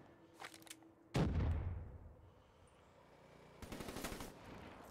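Black Ops 3 multiplayer gunfire on PS4: a sudden loud burst of shots with a booming low tail fading over a couple of seconds, then a second rapid volley near the end.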